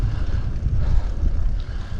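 Wind rushes and buffets against the microphone on a long outdoor downhill descent during a 100 km training session, a steady low rumbling roar with no voices.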